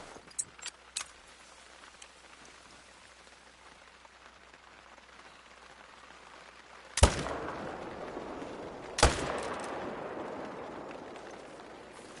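Two sharp rifle shots at red deer in theHunter: Call of the Wild, sudden loud cracks a couple of seconds apart, each rolling away in a long fading echo over a quiet outdoor backdrop with a few small ticks.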